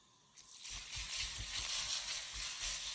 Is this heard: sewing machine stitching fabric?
no